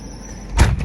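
A 1992 Mercedes-Benz 500SL R129 shifted into drive on a cold day, a single dull mechanical clunk from the car near the end, with a low rumble over quiet idle.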